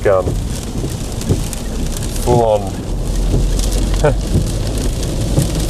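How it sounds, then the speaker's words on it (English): Heavy rain and gusting wind of an outback storm in Australia form a steady, loud wash across the whole stretch, with people talking over it. "the wind has really picked up now"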